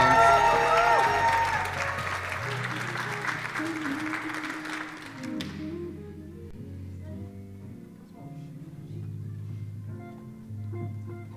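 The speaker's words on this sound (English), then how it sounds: "Come on, clap your hands for her as she comes." An audience applauds and cheers at a gala, a dense, full round of clapping for about five seconds that fades out as music swells up beneath it and carries on alone.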